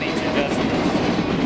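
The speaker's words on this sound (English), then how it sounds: "We heard a lot of noise here after the train went through from the axles on the train" A train at a road crossing rolls past up close, loud steady rumble with rattling axle and wheel noise over the rails.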